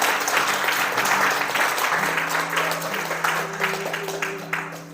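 A church congregation at a Sunday service applauds strongly, dense clapping with a sustained tone beneath, slowly easing off toward the end.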